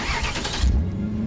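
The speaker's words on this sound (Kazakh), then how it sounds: "СВХ-ға түседі машина, отырам и от алдырам." A BMW car engine turns over and fires, with a short burst of cranking that settles into a low, steady idle hum, heard up close in a brief clip with no talking.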